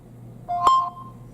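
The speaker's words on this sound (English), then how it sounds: "we just heard the beep, which means that the camera has just been accepted" A Nooie 360 security pet camera gives a single short electronic beep as it finishes pairing, clear and close against a quiet room hum.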